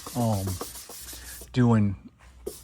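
Hand sanding with 180 grit sandpaper on a car body being prepared for primer, heard as rough rhythmic rubbing strokes, close and fairly loud, in two main passes with short pauses.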